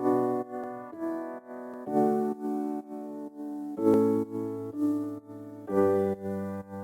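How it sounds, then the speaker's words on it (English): Piano chords in a slap house track stab in a steady, bouncy rhythm, short punchy hits repeating over about seven seconds with no voices. "I added these piano chords, which sound like this."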